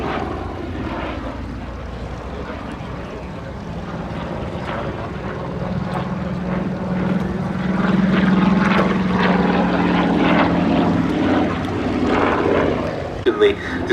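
A propeller-driven fighter aircraft at an air display: a sustained droning engine roar that swells louder toward the middle and stays steady, heard from a distance with a broad rumbling tone.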